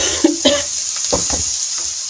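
Mixed vegetables with spices are stirred in a pan for mix achaari sabzi with no water added. A spoon scrapes and clinks in a few short strokes over a steady background hiss.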